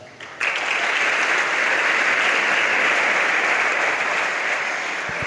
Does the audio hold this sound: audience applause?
yes